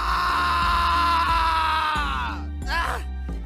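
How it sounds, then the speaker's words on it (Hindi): A man's long, loud scream of terror, drawn out and wavering, with a second cry near the end, set over a low rhythmic backing as a horror-story effect. "भयभीत होकर मैं जोरों से चिल्लाने लगा"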